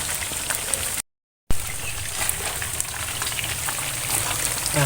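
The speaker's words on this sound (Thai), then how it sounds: "ต้องทอดปลาดุกให้กรอบนะครับ" Catfish deep-frying in a pan of oil, a steady dense crackle and sizzle throughout, close and fairly loud, with a short gap of silence near the start.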